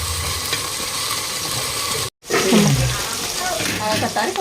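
Soaked dried peas being stirred into a vegetable pulao in a pot, with a steady scraping, sizzling stir broken by a brief silent gap midway, then resuming with a faint voice-like tone underneath.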